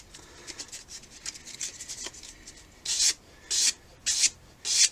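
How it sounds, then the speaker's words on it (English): Balsa wood rocket fins sanded flat by hand: light irregular rubbing strokes at first, then four loud, distinct rasping passes at a steady rhythm, close by with no talking. "we're trying to keep it flat and sanding off just what we need to"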